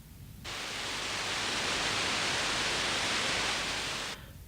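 A burst of broadband electronic noise, a steady rushing hiss, switches on abruptly, holds for about four seconds, then cuts off.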